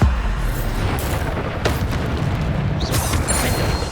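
Bombarda blasting spells going off in Hogwarts Legacy combat, a dense, continuous rumble of booming explosions with sharp bursts layered over a loud, busy battle din.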